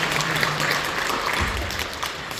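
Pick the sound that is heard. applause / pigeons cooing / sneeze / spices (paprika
applause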